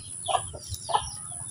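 Chicken clucking in short vocal bursts, two clear calls about half a second apart, near and moderately loud over a steady low background hum, from a bird with a respiratory snoring illness.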